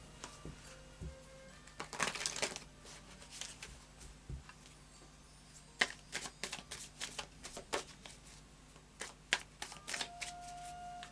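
Tarot cards being shuffled, handled and drawn on a table in quiet close-up, with soft irregular riffling and tapping bursts and a few sharper flicks.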